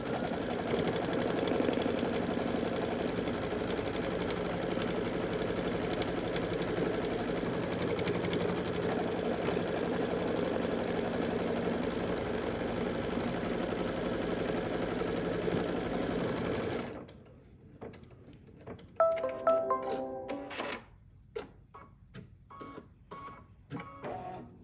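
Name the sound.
sewing machine stitching a Kimberbell lip balm holder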